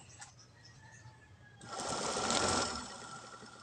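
Radiator fan motor spinning up on a test, a broadband whirring rush that swells in loudly after a quieter start, holds steady for about a second, then eases back down, with no talking.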